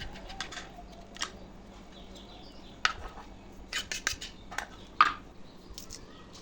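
Eggplant is cut with a knife for a spicy Maharashtrian-style eggplant curry, giving sparse, sharp, close knife taps and scrapes at irregular intervals, with no talk.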